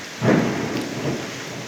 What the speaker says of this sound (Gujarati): ખૂબ જ ગાજવીજળીના કડાકા ભડાકા થઈ રહ્યા છે.